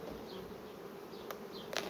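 Honey bees at a swarm colony foraging intensely, a steady low buzzing hum filling the whole stretch with a couple of brief sharper sounds near the end.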